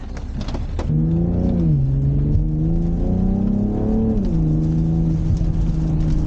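A 2023 BMW M440i xDrive engine roars up from a standstill on a highway, pitch climbing through gear shifts as it accelerates hard, heard from inside the car.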